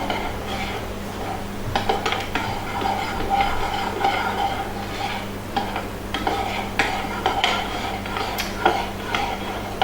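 Maple syrup is stirred into a peppermint chocolate bark mixture in a bowl, giving a continuous close scraping swirl with light clinks of the utensil and steady texture throughout.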